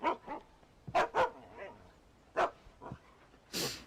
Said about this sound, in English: There's some bloodborne dogs.